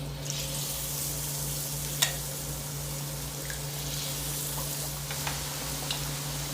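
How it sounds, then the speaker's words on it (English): Chicken fingers fry in hot oil in a cast iron pan with a steady, close sizzle, broken by occasional pops and light clinks. "it's really just a matter putting in the chicken and frying"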